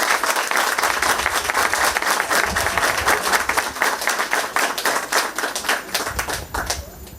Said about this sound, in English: Can we give a big round of applause to that?